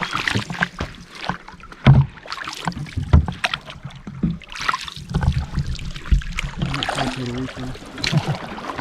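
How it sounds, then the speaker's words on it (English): A canoe moves across a lake in Algonquin Park, with paddle splashes and water swishing close by, uneven knocks and gurgles over soft outdoor background. "There goes Mikey with the canoe"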